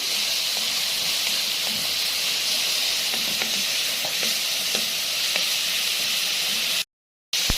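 Onions frying and sizzling in a pan, a steady close hiss with occasional light stirring clicks, no voices, ending abruptly in a brief silence.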